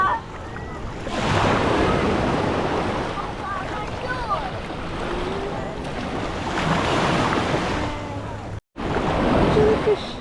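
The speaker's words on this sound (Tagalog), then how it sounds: "Big waves." Big ocean waves surge and break continuously on the shore at Es Canar Beach in summer, a loud broad roar with wind buffeting the microphone, with faint voices now and then and a brief dropout near the end.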